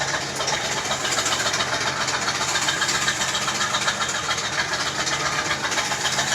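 A Chevy engine that has just been through a wreck runs steadily at idle, a continuous even rumble close by with no talk over it.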